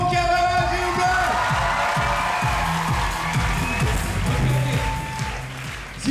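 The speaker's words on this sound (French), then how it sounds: "Allez, donnez un applaudissement pour Kevin Gilbert." A live comedy show audience breaks into sustained applause and cheering, a loud continuous wash of clapping with whoops and voices mixed in, tapering slightly before a final burst.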